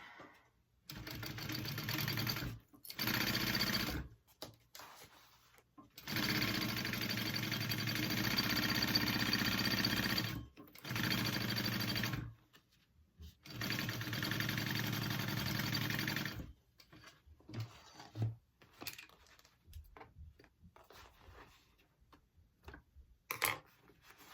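A sewing machine stitches a half-inch seam on a tote bag in several loud, steady bursts separated by short pauses, ending in scattered light handling clicks.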